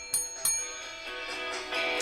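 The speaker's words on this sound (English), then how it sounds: "Ring the bell for the Cubs." Small bells ring a few times in quick sharp strikes over a faint background, light and moderately close, with no one speaking.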